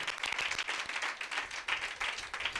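Congregation at a church sermon clapping loudly in pulsing waves, bursts of hand claps rising and falling in a rough rhythm with no talk over them.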